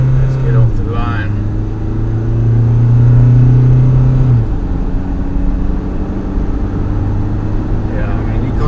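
A Mahindra Scorpio N pulls away on the road, its engine rising in a loud, droning rumble that swells and then settles into steady cruising noise.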